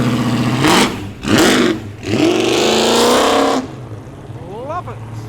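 Loud muscle car engine, mentioned alongside a Hellcat at a Sydney street car meet, revving in several hard bursts and then roaring as it accelerates away, fading to quieter engine sounds with voices in the background.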